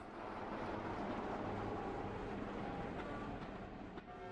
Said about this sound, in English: the introduction of their new prototype diesel-electric locomotive